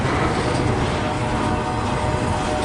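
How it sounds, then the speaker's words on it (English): A long CSX freight train rolls past near Fostoria, Ohio, a loud, unbroken roar of wheels and cars that holds steady throughout with no clear voices. "That's a long train."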